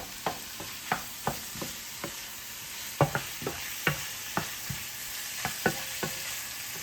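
Vegetables sizzle in a pan for a keto sausage casserole, a steady soft frying hiss punctuated by regular stirring scrapes and clicks of a utensil, close and alone without talk.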